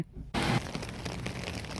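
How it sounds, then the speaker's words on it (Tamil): Steady summer rain falls in a US town, a dense broadband hiss that starts abruptly and continues evenly, close and fairly loud, with no talk over it. "எப்படி பெய்து பாருங்க ஜோராக பெய்யுது"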